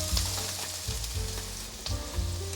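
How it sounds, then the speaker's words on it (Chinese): Celery being stir-fried in a wok over ginger slices for a vegan potato dish, a close, bright sizzle with a few louder bursts as the pieces are tossed, no voices. "这时候放入芹菜，芹菜铺底，稍微炒一下"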